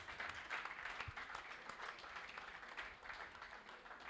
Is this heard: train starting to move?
no